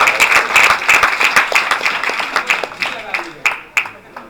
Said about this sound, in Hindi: ताली बजाओ बच्चे के लिए